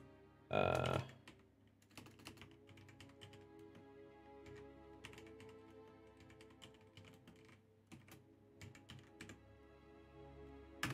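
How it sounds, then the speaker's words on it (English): Typing on a computer keyboard in Destiny 2 chat while searching for a match: steady, close clicky keystrokes with uneven bursts, after a brief loud thump near the start. "Okay, so I'm typing in chat."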